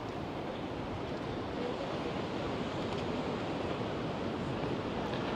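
Steady broadband roar of ocean surf at a surfers' beach in Puerto de la Cruz, Tenerife, continuous and fairly close, with wind adding to the wash and no voices.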